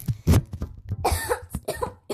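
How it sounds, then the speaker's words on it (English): Repeated harsh coughing fits from a person, several sharp bursts close to the mic with short gaps, mixed with some throat noise. "Sorry, I've been having like cough attacks lately."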